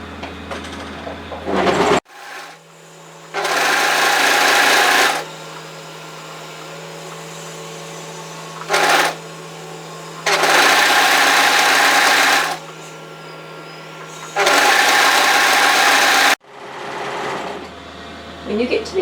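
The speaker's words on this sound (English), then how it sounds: "I'm going to sew this from the wrist to the hem through the underarm" A sewing machine stitches a cardigan seam from wrist to hem through the underarm. It comes in four loud, close bursts of fast whirring with pauses between them, the second burst very short.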